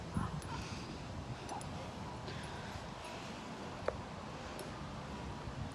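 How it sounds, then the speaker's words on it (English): Dog whimpering and giving small yips at close range, soft and intermittent over a steady background noise, with one sharp brief sound near the end. "See, Daniel, doggos aren't so scary."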